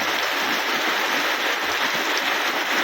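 Steady rain falling heavily outdoors, a dense continuous hiss with no breaks and no voices.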